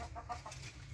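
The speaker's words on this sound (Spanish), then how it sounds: "Esa es mi gallina." A hen clucking in a short burst, a few quick nasal clucks close by over a low steady background hum.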